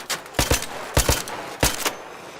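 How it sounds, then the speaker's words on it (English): An upgraded Rattler gun in Arc Raiders fires in three separate quick double-shot bursts, sharp and fairly close, with short gaps between them and no talk. "I'm gonna use my rattler."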